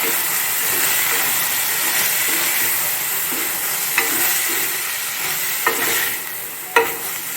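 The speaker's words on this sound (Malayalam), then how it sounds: "ഇനി നമ്മളെ ഗ്രീൻ പീസ് നന്നായി ഒന്ന് ഇറക്കി കൊടുക്കുക" Green peas and potato are stirred in a pan for a chapathi curry, with a loud continuous sizzle and hiss carrying soft scraping strokes, plus a few sharper clinks toward the end.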